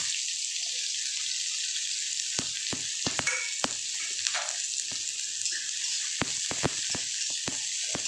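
Chopped onions fry in a pan for a potol (pointed gourd) bhorta, giving a steady close sizzling hiss throughout, broken by sharp clicks and taps of a spatula stirring.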